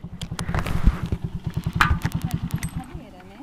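A motorcycle, apparently a Yamaha XJ6, pulls up close with a steady pulsing engine throb that ends as the motor settles, while people talk over it.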